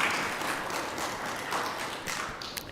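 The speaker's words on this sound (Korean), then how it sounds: "새로 오신 분들 바라보면서 한번 박수로 환영합시다" A church congregation applauds to welcome newcomers at a Sunday worship service. Dense, steady clapping from many hands fills the hall with a few sharper taps near the end.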